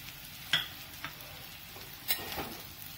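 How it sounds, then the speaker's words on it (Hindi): Bread and onions stirred in a frying pan, soft sizzling with a few faint scraping spoon strokes against the pan. "ब्रेड को भी साथ में मिक्स कर लें।"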